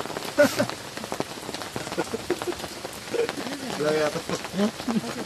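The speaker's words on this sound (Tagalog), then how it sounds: "Ito kasi maulan." Rain falls at a campsite at an abandoned resort, a steady close patter of drops, with voices talking intermittently over it.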